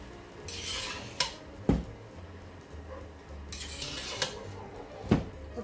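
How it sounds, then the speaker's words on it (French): A spoon stirs red cabbage, chestnut and apple compote with wine in a pot, soft scraping with a few sharp clinks against the metal, quiet and close, no talk. "Alors, on va le remuer un petit peu."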